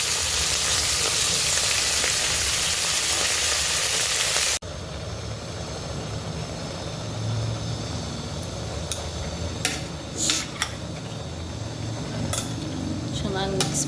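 Vegetables for a sambar frying in a pan: a loud broad hiss of oil at first, then a quieter sizzle with scattered sharp clinks and scrapes of a spoon against the pan.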